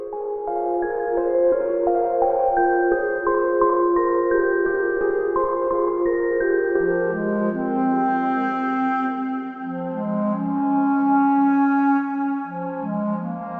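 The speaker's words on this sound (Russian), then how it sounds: "Одинокий кларнет, или гобой, вечно путаю их на слух, с которого начинается композиция The Trees Will Watch" A lone clarinet plays a slow, melancholy theme from the Banquet for Fools game soundtrack, with long held notes that step lower and settle into a soft, steady close.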